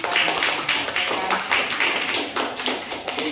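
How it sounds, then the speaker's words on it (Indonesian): Audience applause for a participant in a teacher-training class session, a dense patter of many hands clapping steadily and close for a few seconds. "Oke, beri tepuk tangan untuk teman kita."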